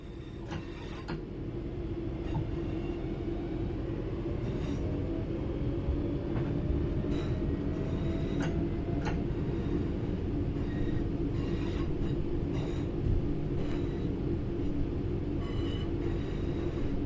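A train slowing to a gentle stop in Train Sim World 4, with a steady loud rumble of wheels on rail, a low brake drone and faint metallic squeals over about seventeen seconds.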